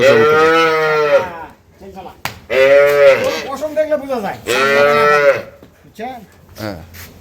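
Jersey-mixed dairy cows on a farm moo loudly and close by, three long drawn-out calls in a row, with faint voices of people in between.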